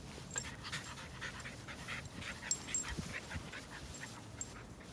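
A young puppy pants rapidly and softly, close by, with faint light whimpers in a quiet room and no talking.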